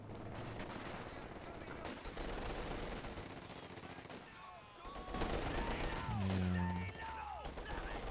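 Real-time strategy gunfire from Company of Heroes 2, a 3v3 tank battle with mortar and sniper squads: crackling machine-gun bursts and rifle shots run throughout, with a commentator talking over the steady battle noise.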